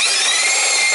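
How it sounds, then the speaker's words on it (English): A power drill whines steadily as it bores into a metal plate on a Woodmizer LT15 sawmill, a loud, close, continuous high-pitched grind lasting about a second. "so I'm just drilling to that hole"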